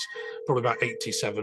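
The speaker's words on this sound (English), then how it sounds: "Sorry about the phone." A telephone rings indoors at a workplace, its steady electronic tone repeating in pulses beneath a man's speech.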